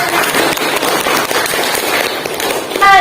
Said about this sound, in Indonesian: Kasih tepuk tangan untuk Pipit